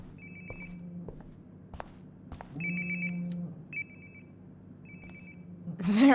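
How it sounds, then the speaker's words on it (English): Cellphone ringing nearby in the video game Life Is Strange: Before the Storm, a repeated electronic ringtone chirping in short bursts over soft footsteps and ambient room hum. "Sounds like my phone is definitely nearby."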